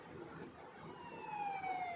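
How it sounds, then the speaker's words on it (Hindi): Police jeep siren wailing at a distance, a thin rising and falling tone that swells slightly louder toward the end over a low background hum; no speech. "सायरन बजाती पुलिस की जीपें वह पेट्रोल गाड़ियां आंधी तूफान की तरह घटनास्थल की ओर रवाना हो गईं"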